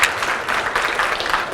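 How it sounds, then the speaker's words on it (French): Dense audience applause at a forum on women's and men's equality, a continuous wash of clapping at steady volume. "on peut l'applaudir"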